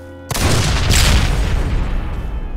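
A single loud gunshot-like blast in the World War II shooter Enemy Front, a sudden sharp crack followed by a booming, rumbling decay that fades out over about two seconds.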